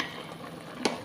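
Adobong sitaw of string beans sautéed with onion, tomato, garlic and chicken gets a single quick scrape of a spoon through the pan, a short close clatter over a faint steady sizzle.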